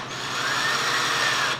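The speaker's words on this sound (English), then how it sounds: "So I'm going to start by drilling a guide hole." A power drill bores a guide hole into oak wood, a steady, close, loud whine of the motor and bit that holds for the whole moment.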